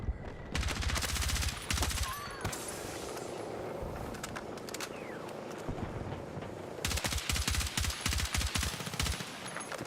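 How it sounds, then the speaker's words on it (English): An unsuppressed gun fires in the Battlefield 6 video game as rapid, loud automatic bursts. A quieter gap follows, then another sustained burst of close gunfire. "you're firing with an unsuppressed gun right next to me"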